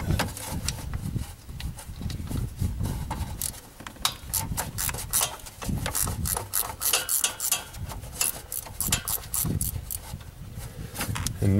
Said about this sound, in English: Now here, I use my ratchet wrench.